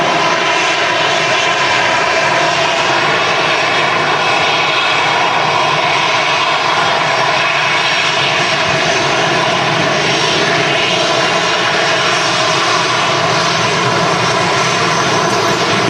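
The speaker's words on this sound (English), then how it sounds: "EasyJet in from Copenhagen." An EasyJet Airbus A320-200 arrives at Manchester Airport, its jet engines producing a loud, sustained roar with a whining tonal edge that holds steady throughout, heard from nearby with no talking.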